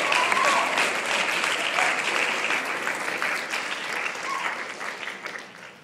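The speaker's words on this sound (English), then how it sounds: "Give them a round of applause." Sustained applause from an audience of parents at a youth gathering, dense and steady at close range, tapering slightly near the end with no talk over it.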